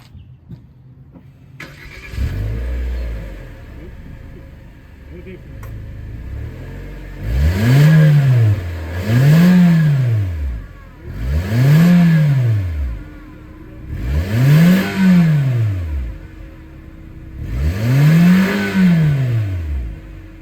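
A car engine starts and idles, then revs up and down five times in rising and falling swells, with a deep, throaty exhaust tone through a DC Sport EX-1012b bolt-on performance muffler.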